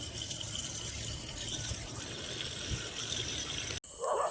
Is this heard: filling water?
yes